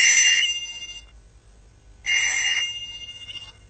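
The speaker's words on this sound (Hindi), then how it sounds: "जाके फोन सुनो" A telephone rings in an old Pakistani drama, two loud bright bursts of ringing separated by a short pause, with nothing else heard.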